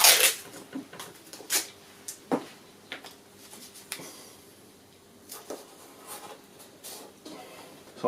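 Masking tape being pulled and pressed onto a part of a barn-find Honda XR250RT motorcycle during restoration, close bursts of tearing and rubbing separated by short quiet gaps.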